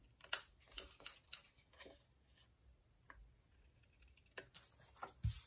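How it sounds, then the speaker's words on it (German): Scissors snip through paper card for a handmade greeting card, giving a series of short, crisp cuts in irregular bursts with quiet pauses between, close and fairly faint. "Das könnt ihr euch dann jetzt einfach mit eurer Schere abschneiden."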